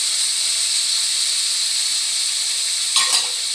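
Boiled kabuli chickpeas going into a hot pan: a steady, bright sizzle and hiss of frying fills the whole stretch, with a brief scrape of stirring near the end and no talking.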